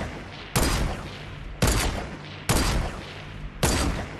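Four loud, evenly spaced gunshots in a video game, each a sharp crack followed by a long rolling echo that fades before the next shot.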